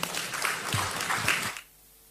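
A short burst of applause from the audience at an ECOWAS heads of state handover ceremony, dense clapping that stops abruptly into near silence.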